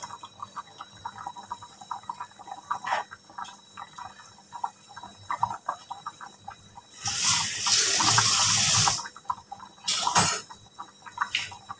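Water pours into a cooking pot with black beans while cow skin balbacua is being made. One loud, steady gush runs for about two seconds, then a shorter splash follows over quiet kitchen clatter.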